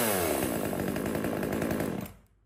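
Kamatsu KM2500 chainsaw engine running at a fast, buzzing idle, loud and close, then cutting off abruptly near the end.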